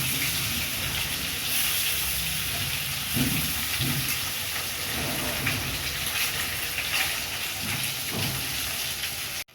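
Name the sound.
frying duck eggs in a pan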